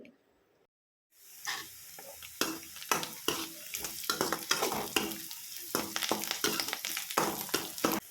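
Garlic and onion hit hot oil in a pan as a puliyogare tempering, giving a steady close sizzle broken by sharp scraping and stirring clatters, with no talking.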